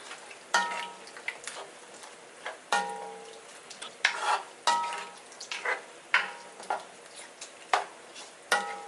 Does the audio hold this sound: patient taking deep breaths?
no